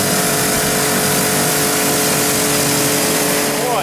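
An Audi RS6 engine revs loud and close, with a sustained mid-pitched roar that stays strong throughout, heard alone with no talk.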